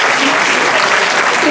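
An audience at a burlesque show claps in a dense, steady burst of loud applause that fills the room without a break.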